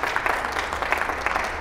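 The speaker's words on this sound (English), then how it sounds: "yes, applaud" An audience at a panel on Dominion ImageCast X voting machines breaks into brief applause, a short burst of scattered clapping at moderate distance.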